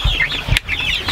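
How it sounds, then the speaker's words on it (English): A broody hen gives soft, low clucks and murmurs close by, with brief rustling, in a short burst. "There's the broody hen."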